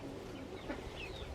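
Chickens clucking softly in an outdoor farmyard pen at feeding time, faint scattered calls over a steady low background.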